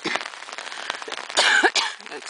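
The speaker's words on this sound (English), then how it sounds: "Excuse my occasional cough." A couple of short, harsh coughs from a person getting over the flu burst out close by over a noisy background, with a second smaller cough following the first.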